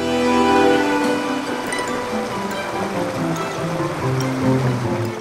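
The Soča river rushes through a rugged mountain valley in Slovenia, a steady, loud broadband roar of flowing water with no pauses and no voices.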